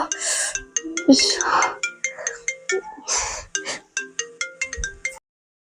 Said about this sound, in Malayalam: ഉമ്മ വിളിക്കുന്നുണ്ട് അതെ ഫോൺ എടുക്ക്